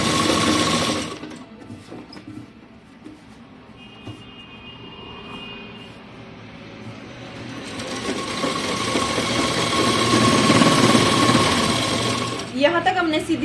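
A sewing machine runs a straight stitch along saree pleats, a steady buzzing whir that rises loud and continuous, with hand and fabric handling noises and some background hum around it.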